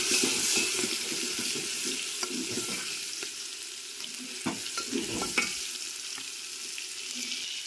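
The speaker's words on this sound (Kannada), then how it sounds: "ಜೀರಿಗೆ ಸಾಸಿವೆ ಅಂತೂ ಚಟ್ಪಟ್ ಅಂತ ಸಿಗ್ಲಿಕ್ಕೆ. ಈಗ ಬೆಳ್ಳುಳ್ಳಿ ಹಾಕೊಂಡಿನಿ" Cumin, mustard seeds and garlic crackle in hot oil while a festive Holi dish is being cooked. A busy, close sizzle is dotted with sharp pops and a few utensil clinks, loud at first and easing slightly, with no voices.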